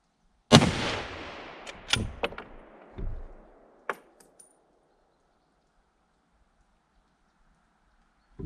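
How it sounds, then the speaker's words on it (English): A rifle fired with silencer ammunition and no suppressor: one sharp report with a long ringing decay, followed by scattered metallic clinks and small clatter that fade into quiet, with a brief sound at the very end. "Let's see how it shoots now."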